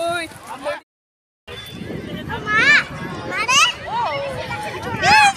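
A crowd gathers at a riverside Maha Shivaratri gathering, with close, lively chatter and children's voices forming a steady hubbub that cuts out briefly before resuming.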